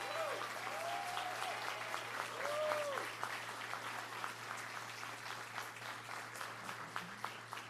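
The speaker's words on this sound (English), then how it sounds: "Let's give them a round of applause" A town hall audience applauds police precinct leaders, sustained clapping from a crowd filling the room and slowly thinning, with a few faint whistle-like tones early on.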